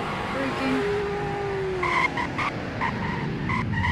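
A car in the Roblox game Greenville braking hard, with a drawn-out tire skid over a steady engine hum and short beeping game tones, close and loud, no talk.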